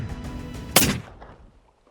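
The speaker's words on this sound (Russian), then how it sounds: "Первым же выстрелом, по сути," A single rifle shot fired during a red sheep hunt in the Iranian mountains, a sharp loud crack that rolls into a fading echo over open terrain, preceded by faint background noise.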